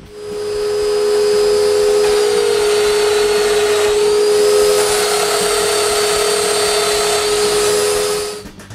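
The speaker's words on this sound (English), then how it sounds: "I can mark the placement of the other mating mortises on the shelves and drill them" A power drill bores mortises into wooden shelves, running as one loud, steady, high-pitched whine that spins up, holds for several seconds with slight pitch dips under load, then winds down.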